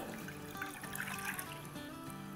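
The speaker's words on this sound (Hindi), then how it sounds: "तो इसमें हम डाल देंगे 1 कप पानी," A cup of water trickles and pours into a pot on a stove set to medium-low, a soft, steady liquid sound heard close up, with no talking.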